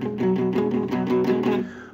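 Several quick electric guitar power chord strums on strings 5 and 4 in a steady rhythm, close and fairly loud, each chord ringing briefly before the next, fading out at the end.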